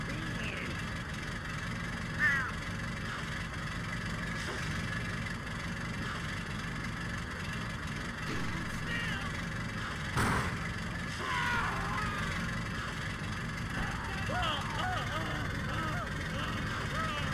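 A tractor engine in the video game Stubbs the Zombie runs continuously at a steady, idling drone, with someone talking over it throughout.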